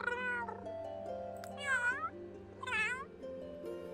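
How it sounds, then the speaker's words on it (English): A cat in The Sims 3 gives several clear, close meows, each rising and falling, one after another over a steady background tone, with no speech. "we have Adderskip, who is a very handsome cat here"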